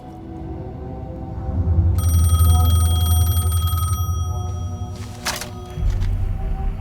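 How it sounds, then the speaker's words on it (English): A payphone rings in the video game Alan Wake 2, a bright electronic ring lasting about two seconds over a low ambient rumble, followed by a brief sharp sound and the hum resuming. "The payphone was ringing."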